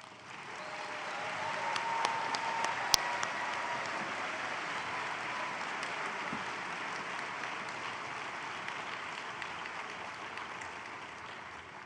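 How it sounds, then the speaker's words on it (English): Applause from a graduation convocation audience fills a large hall, a sustained, moderately distant wash of many hands clapping that swells early and holds steady, with a few sharper nearby claps standing out. "Let's give this group a round of applause."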